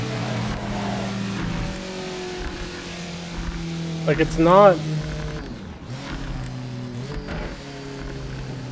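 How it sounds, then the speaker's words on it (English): A car engine with a hanging throttle, revving while decelerating, holds a steady drone with a brief rising-and-falling surge midway, and someone talks over it throughout. "It just sounds like my throttle keeps getting stabbed as I'm decelling."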